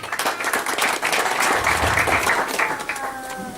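Wedding guests applaud as a groom thanks his parents at his marriage: dense, continuous clapping from a crowd, fairly loud and steady throughout, with faint voices mixed in beneath.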